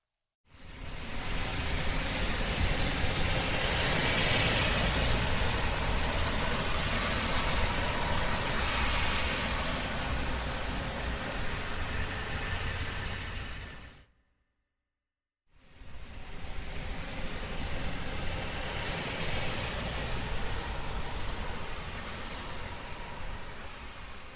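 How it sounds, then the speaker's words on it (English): Steady heavy rain hiss with the wash of car tires hydroplaning through water on a wet road, briefly cutting out then resuming just as dense. "The rain was heavy enough that it made a nice little hydroplane for the cars right in front of the house."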